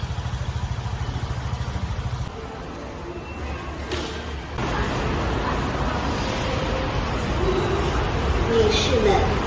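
Steady road traffic with idling and revving engines, a low rumble filling the scene, growing denser and louder partway through.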